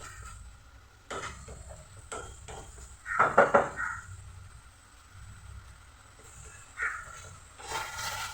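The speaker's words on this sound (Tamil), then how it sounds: "ஒரு 2 நிமிஷம் மட்டும் அந்த உருளைக்கிழங்கு போட்டுட்டு கிளறி விட்டுட்டு" A spoon or spatula stirring honey chilli potatoes with spring onion in a pan, with a few scattered metallic scrapes and one louder clatter of clanks, otherwise quiet.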